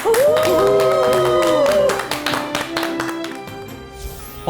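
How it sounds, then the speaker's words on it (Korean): A studio audience at a talk show on aging breaks into applause that runs under a swelling musical sting, the rapid clapping staying loud and steady, then thinning toward the end. "큰 박수로 맞아주시기 바랍니다."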